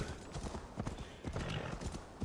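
Viking horses in an Xbox Series X video game, hooves clip-clopping in a quick, irregular rhythm with a short neigh, all close and fairly loud throughout.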